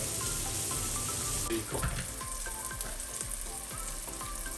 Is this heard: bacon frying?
yes